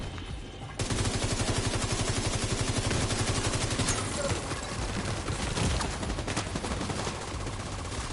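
Enemy machine gun fire in The Division 2 on PS4 during the Grand Washington Hotel invaded mission rattles in long, dense, continuous bursts, loud and close, with rapid repeated shots filling nearly the whole stretch and no talking.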